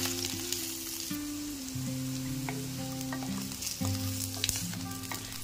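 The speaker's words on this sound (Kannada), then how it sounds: "ಇದಕ್ಕೆ ಬೆಳ್ಳುಳ್ಳಿ ಮತ್ತೆ ಶುಂಠಿ ಜೊತೆಗೆ ಈರುಳ್ಳಿ, ಇದನ್ನೆಲ್ಲ ನಾನು ಹಸಿ ವಾಸನೆ ಹೋಗೋವರೆಗೂ ಸ್ವಲ್ಪ ಹುರ್ಕೋತಾ ಇದ್ದೀನಿ ಎಣ್ಣೆ ಹಾಕೊಂಡು" Garlic, ginger and onion fry in oil in a pan for crab sambar, giving a steady, loud, close sizzle with no talking across the whole stretch.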